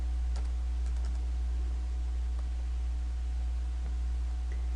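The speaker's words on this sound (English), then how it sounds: "typing the class name in the box below" Rapid, uneven typing on a computer keyboard, key clicks and taps close up over a loud, constant low electrical hum, with no one talking.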